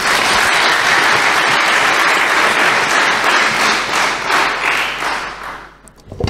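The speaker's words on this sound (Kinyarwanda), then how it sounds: "Dukomere Imana amashyi." Loud, close applause from a gathered crowd, dense continuous clapping for several seconds before it thins out and fades, with a few final scattered claps at the end.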